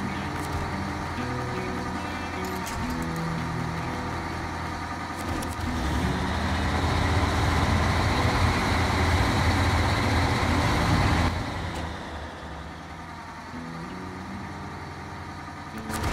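A truck engine drones steadily as it drives through the Alaska region in SnowRunner, swelling louder midway and then easing back to a lower rumble.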